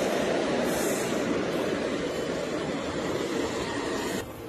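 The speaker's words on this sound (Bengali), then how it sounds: "এই দিক দিয়ে ট্রেন যাচ্ছে এখন" An express train passes through a railway station, heard as a continuous loud rumbling roar with steady noise that drops off abruptly near the end.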